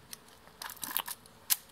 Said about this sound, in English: you film forward and then you release the shutter and you saw the mirror go up